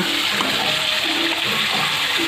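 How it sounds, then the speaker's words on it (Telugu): Fish fry in hot oil on a stove, giving a steady, close, broadband sizzle with faint crackles throughout. "చేపలు దోరగా వేగుతున్నాయండి."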